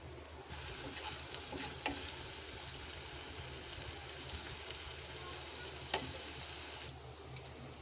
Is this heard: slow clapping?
no